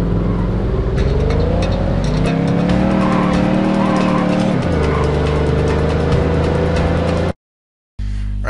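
Car driving in The Godfather PC video game, a loud steady engine drone with shifting pitch and tire skidding noise throughout, cutting abruptly to silence near the end before resuming briefly.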